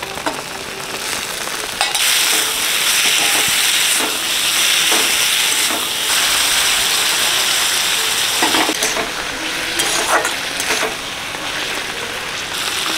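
Half-boiled potatoes hit a pan of cooked-down spice paste for lanka chop, giving a steady, loud close sizzle and hiss with brief bursts of stirring, no voices.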